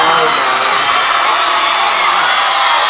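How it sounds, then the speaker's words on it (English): A wrestling show crowd cheers wildly, a loud continuous roar of shouts, whoops and screams that stays at full intensity without a break. "the crowd is going absolutely crazy"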